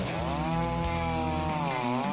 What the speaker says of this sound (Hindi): ये गद्दा मेरी आरी के आगे टिक नहीं पाएगा।